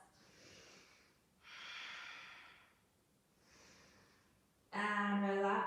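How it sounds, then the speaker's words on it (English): Slow, deep breaths drawn in and released through the nose during a yoga pose, four breathy swells close to the listener, the last louder and harsher, in a quiet room. "2 more deep breaths."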